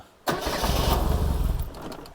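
A water-logged Reliant Rialto barn-find car cranks and fires at once, its engine catching and running loud and close with a rough, uneven beat for about two seconds before easing slightly.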